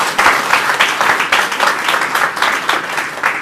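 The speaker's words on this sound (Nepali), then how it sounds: "ताली बजाएर परमेश्वरलाई धन्यवाद दिनु।" Church congregation applauding together in thanks to God during a service, a dense, loud and sustained wash of clapping filling the room with no voices on top.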